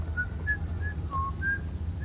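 A thin, melodic whistle plays in short separate notes over a steady low ambient hum inside a video game, about five brief tones spread evenly across two seconds.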